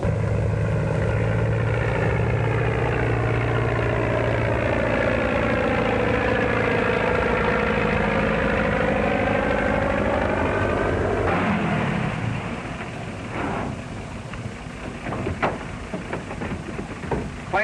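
A 1935-era airplane engine warms up before takeoff, a loud steady droning idle with shifting pitch that cuts off abruptly, followed by quieter clattering and knocks.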